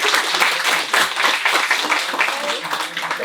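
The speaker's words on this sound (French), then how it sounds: "je vous invite à l'applaudir" Audience applause fills a crowded room at a French café talk event, dense steady clapping throughout with a voice faintly underneath.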